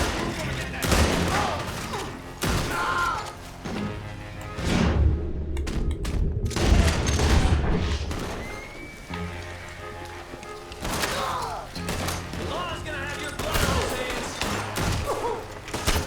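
Repeated gunshots from the Western game Red Dead Redemption 2, sharp cracks and thuds scattered across a noisy outdoor scene, loud and close, with a voice faintly present beneath the game sounds.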